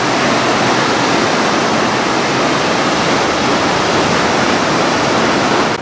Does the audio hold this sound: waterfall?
yes